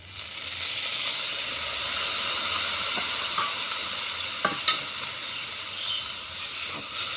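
Masala spice paste with turmeric frying hard in a pan for a prawn curry while being stirred, a loud, continuous hissing sizzle with a few sharp scrapes of the spoon.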